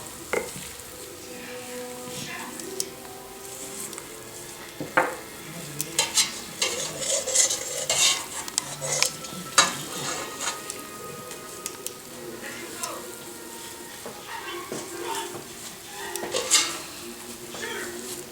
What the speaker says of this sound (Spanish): Se tiene que mezclar bastante para que la masa salga suave.